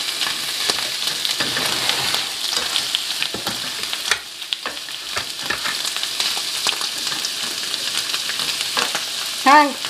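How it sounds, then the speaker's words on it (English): Onion and mushroom sauté in a pan for cheeseburger topping, a loud continuous sizzle with frequent spatula scrapes and taps, close by, ending in a brief squeak. "So I'm sauteing now the onion and mushroom to top on our cheeseburger."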